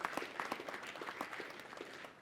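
Audience applause at a talk on crypto wallets and the Celo community: quiet, scattered hand clapping from a crowd, heard faintly and fading toward the end.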